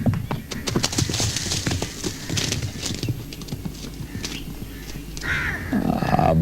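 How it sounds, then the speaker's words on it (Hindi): A horse runs in a Punjabi drama scene, with rapid clip-clop hoofbeats over rumbling noise, followed by a neigh toward the end. "रंगली से कहो यार कि घोड़ा जरा संभाल के दौड़ाया करे।"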